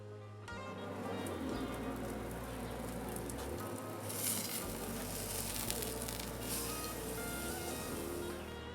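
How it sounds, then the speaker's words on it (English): A tri-tip roast sizzles over hot coals on a grill, giving a steady, dense crackle and hiss that runs unbroken over a low background hum. "We're gonna cook it right there on the hot with the lid on it, keep all that heat in there."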